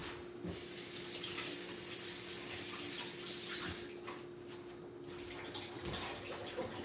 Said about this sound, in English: Can you turn off that water, please?